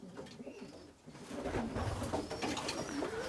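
Pigeons coo softly at close range for a few seconds, low rounded calls repeating over quiet background noise.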